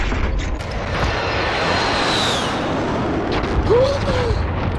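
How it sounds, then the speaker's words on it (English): A precision airstrike in Call of Duty: Warzone, with a continuous heavy rumbling roar of distant explosions and a sweeping jet-like whine, loud and dense throughout. "Friendly precision airstrike inbound."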